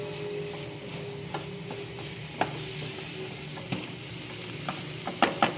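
Chicken spring roll filling sizzles in a pan under steady frying hiss, with a few sharp scraping clicks of a spatula stirring it, clustering toward the end; no talking.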